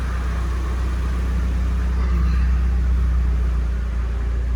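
A 1999 Nissan S15 Silvia Aero Spec R engine runs steadily nearby, a deep continuous rumble with a slight swell partway through, heard alone.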